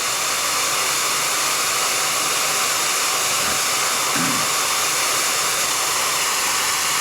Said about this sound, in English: Move my vase out of the way so it doesn't get hot from the blow dryer.